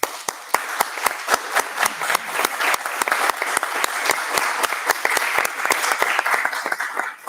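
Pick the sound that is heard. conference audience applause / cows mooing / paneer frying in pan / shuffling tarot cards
conference audience applause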